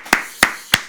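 Clapping at a Korean church service, heard as three sharp, evenly spaced claps in quick succession, close and distinct.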